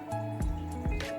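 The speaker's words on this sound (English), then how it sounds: "I've got to pump this out, get this cleaned out" A water pump drains a fish tank with a steady, faint motor hum, broken by a few soft wet drips and gurgles.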